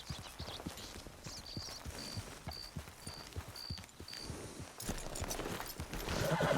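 Horse hooves clip-clopping in the video game Red Dead Online, a steady run of close, crisp hoofbeats at a trotting rhythm, with faint background ambience and a brief whooshing rise near the end.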